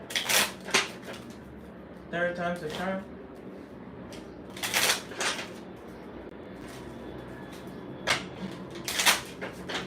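A deck of cards is shuffled in short bursts, with several quick riffles spread across the clip and a person speaking briefly between them.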